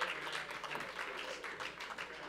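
A church congregation at a harvest conference applauds, a soft, distant wash of many hands clapping steadily and evenly for a couple of seconds.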